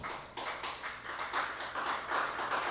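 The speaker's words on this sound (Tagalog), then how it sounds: "Atong sugaton og palakpak ang presensya sa Ginoo." A church congregation applauds during an evening worship service, steady rhythmic clapping from a group of people that builds slightly in loudness over a few seconds.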